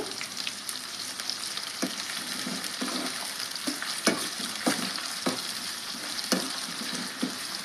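Curry leaves with a little salt frying in oil in a pan for a drumstick masala curry, making a continuous soft sizzle broken by occasional sharp pops and stirring clicks, with no talking.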